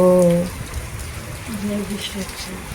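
Steady rain patters down at night with a soft, even hiss, while a voice speaks briefly at the start and faint talk drifts in later.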